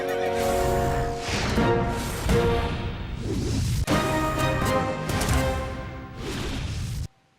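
A horse whinnies loudly several times in a row, shrill neighs close by, before cutting off into silence.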